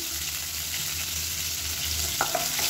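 Steady sizzling of chillies and curry leaves frying in hot oil, a constant crackling hiss with a few sharper pops near the end.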